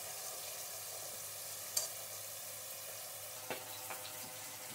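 Pangas fish pieces fry gently in oil with a constant, even sizzling hiss. A few faint clicks and taps break the hiss, and no voices are heard.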